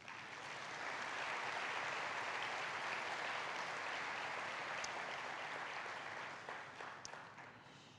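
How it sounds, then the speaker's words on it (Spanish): A congregation at a church sermon applauds loudly and steadily for several seconds, a dense wash of clapping that thins out toward the end. "denle un fuerte aplauso a Dios"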